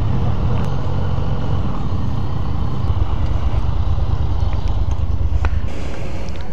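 A steady, loud roar of engine and wind comes from a 2015 Yamaha FZ-09 (MT-09) motorcycle being ridden, continuous throughout with no break.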